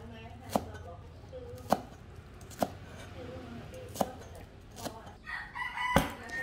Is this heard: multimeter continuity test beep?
no